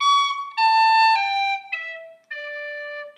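Solo tin whistle plays a short descending phrase from section three of The Hag With The Money, about five separate tongued and slurred notes, close and clean, ending on a held low note.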